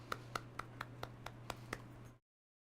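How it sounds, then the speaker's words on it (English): Soft hand claps, about eight evenly spaced, quiet and close, alone with a faint steady hum behind them before cutting to silence. "Soft clap."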